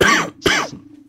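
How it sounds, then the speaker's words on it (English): Two sharp, harsh coughs in quick succession, close and fairly loud, followed by a quiet pause. "I'm coughing"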